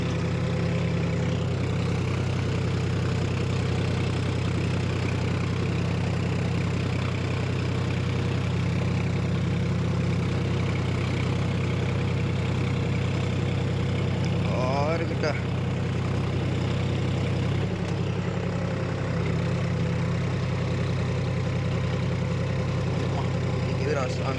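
A tractor engine runs steadily while ploughing a field, a constant low drone with a throbbing mid-range hum that holds the same level throughout, with no pauses.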